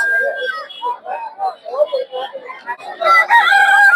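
Chickens, including tiger-breed hens, cluck and a rooster crows loudly and close by at a poultry market in Putia, Narsingdi, with voices talking over them and a burst of busier clucking near the end.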